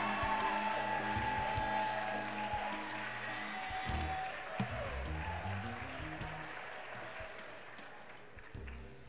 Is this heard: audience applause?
yes